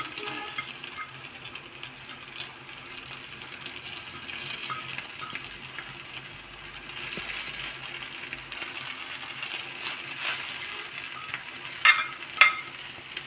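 Noolappam (string hoppers) being stirred and mixed in a pan with green chillies, a steady soft clatter of utensil against metal over a faint sizzle, with a few sharper clinks near the end and no talking.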